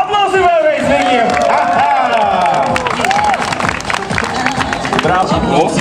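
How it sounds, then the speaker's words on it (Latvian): A crowd at a drag racing event in Locikos, Latvia, claps and cheers in loud continuous applause while an announcer's voice calls out over it. "Aplausi vēlreiz viņiem!"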